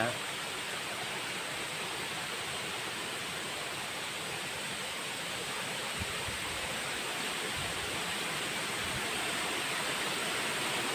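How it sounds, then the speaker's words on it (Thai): A waterfall stream pouring down along a five-kilometre forest trail, heard as a steady, dense broadband rush of water that stays even and close throughout with no voices over it. "ก็จะเป็นลำธารน้ำตกที่มันไหลลงมา"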